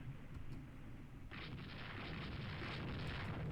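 Heavy 16-inch naval guns firing during a battleship engagement in the Rule the Waves II video game, heard as a dense rumbling roar of distant booms that swells louder partway through and keeps churning; no talking.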